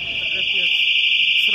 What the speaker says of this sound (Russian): Сигнализация. Уже 2 раза сработал.